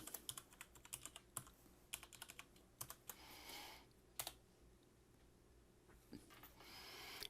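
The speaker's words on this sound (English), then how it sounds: "I will key in the password for that Keyring." Quick bursts of clicking keystrokes on a computer keyboard as a password is entered, close and fairly quiet, in uneven runs with short pauses and no voices.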